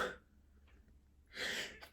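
A single sharp sneeze-like burst bursts out close by near the end, following a faint breathy sound and a quiet pause, with no talking.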